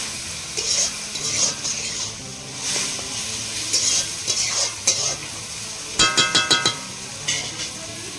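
Spiced masala for aloo dum frying and being stirred in a pan at an outdoor winter-night picnic, a steady sizzle and hiss with repeated scraping stirs and a few sharp clinks of a spoon against the pan.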